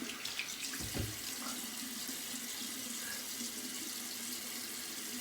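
Running water from a tap rinsing shaving lather off hands and a razor handle, a steady soft splashing stream with a few louder splashes early on, faint and close.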